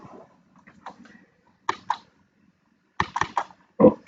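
Scattered keystrokes on a computer keyboard during a Linux terminal session: a few soft taps, then short clustered bursts of sharper clicks, close and fairly quiet with silence between them.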